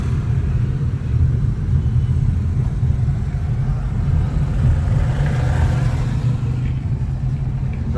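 A car climbs a mountain ghat road at Bhandara hill near Pune, its engine droning with a steady, loud low rumble under light acceleration and no speech.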